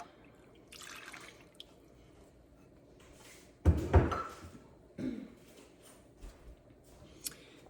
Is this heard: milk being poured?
yes